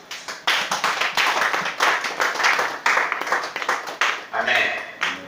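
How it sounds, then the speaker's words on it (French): A congregation at a church service claps in steady, rhythmic unison, loud and close, with voices mixed in throughout. "On acclame le Seigneur Jésus."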